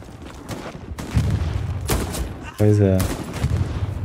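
Gunfire from the video game Call of Duty Black Ops 6, a few sharp shots ringing out over game ambience, with a person briefly talking nearby.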